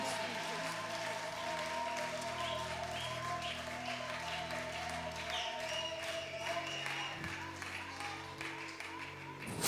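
A church congregation applauding during a sermon, a steady wash of clapping from a large crowd mixed with voices and some cheering, held evenly throughout.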